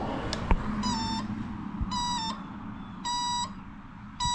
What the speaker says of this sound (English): You can hear the turn signal beeper.